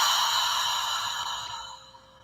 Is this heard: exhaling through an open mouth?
yes